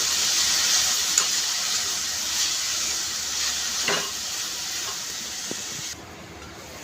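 Chopped spinach sabzi sizzles softly in a pan as it is mixed, a steady close hiss of cooking broken by a few light scrapes and knocks of the spoon.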